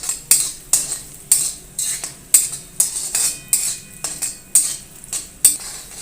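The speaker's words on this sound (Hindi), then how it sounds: "प्याजों को हल्का सा फ्राई कर लेंगे।" Finely chopped onion frying in half a cup of hot oil in a pan for dhaba-style chana dal, with rhythmic clinks of a metal spoon stirring against the pan about every half second over a steady sizzle.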